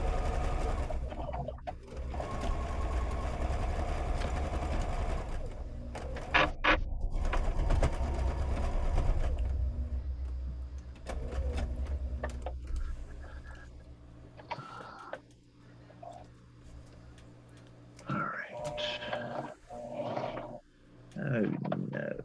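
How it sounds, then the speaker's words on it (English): A sewing machine stitches a pocket in place on a beach bag, running in long steady bursts that stop and start, with brief pauses and a voice talking now and then. "all I'm going to do now is sew this pocket in place"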